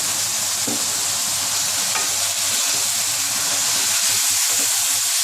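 Tomatoes and green capsicum frying with onions in a pan, giving a loud, continuous hiss and sizzle with faint stirring scrapes, no voices.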